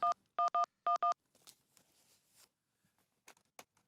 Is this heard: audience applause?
no